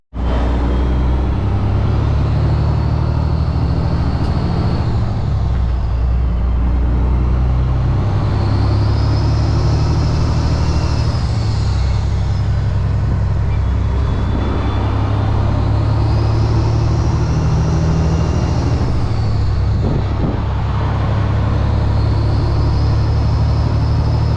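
A Kenworth W900 truck with an 18-speed Eaton Fuller transmission drones loudly from inside the cab, its engine revs rising and dipping in repeated cycles as gears are floated one after another, with no talk.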